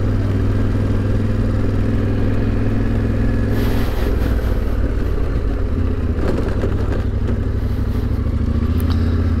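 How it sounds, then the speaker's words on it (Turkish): A motorcycle engine idles loudly nearby with a steady low throb, briefly rising and clattering as it revs, on a rough road in the Nile source region, no voices. "İnsanlar motorun sesini duyunca merakla dönüp bakıyorlar."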